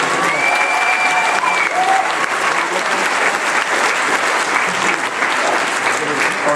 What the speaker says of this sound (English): You can give him a round of applause if you like the art